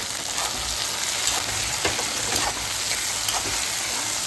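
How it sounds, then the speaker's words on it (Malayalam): A garlic clove and a spoon of cumin sautéing in a pan with green chillies for a chutney, giving a steady, close sizzle and crackle with small stirring clicks throughout. "ഒരു അല്ലി വെളുത്തുള്ളി ഒരു സ്പൂൺ ജീരകം കൂടെ നല്ലോണം വഴക്കും വഴറ്റി"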